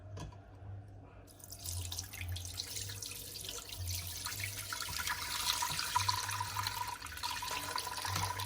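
Liquid strained off and poured during Thanksgiving cooking, a steady splashing trickle that starts after a quiet moment and keeps running, growing a little louder, with a faint low hum beneath.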